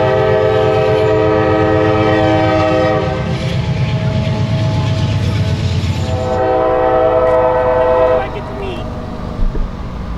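A freight train rumbles past with clattering wheels while a loud horn sounds in long blasts, then the horn fades and the rolling noise continues.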